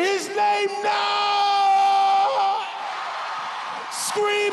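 A large crowd at a Christian revival summit screams and yells together in sustained, loud waves of voices that hold steady for several seconds and then rise again.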